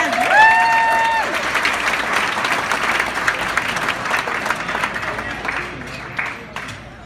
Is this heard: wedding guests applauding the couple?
yes